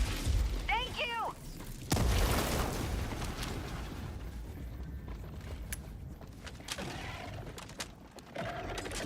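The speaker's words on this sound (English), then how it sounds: "Throwing grenade!" A grenade blast in Helldivers 2, a sharp booming burst followed by a rumbling tail and lingering battlefield noise, with voices around it.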